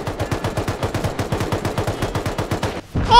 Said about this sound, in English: he shot a rocket inside.